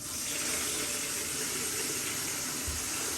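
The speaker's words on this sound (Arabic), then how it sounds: "مية راح نحطها فوق المحشي." Water poured over a pot of stuffed zucchini and eggplant, a steady broadband rush of liquid lasting throughout, close and fairly loud with no talk.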